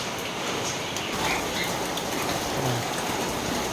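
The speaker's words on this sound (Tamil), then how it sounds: "ஒரே மழையாக இருக்குது." Heavy rain pours steadily outdoors at a guppy fish-rearing setup, a dense, continuous hiss of drops drumming on surfaces with no letup.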